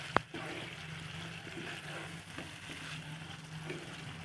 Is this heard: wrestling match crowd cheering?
no